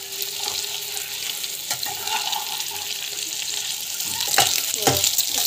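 Ingredients sautéing in a pan with no salt added, a steady frying sizzle with occasional scraping stirs and a couple of sharper clinks toward the end, close and moderately loud.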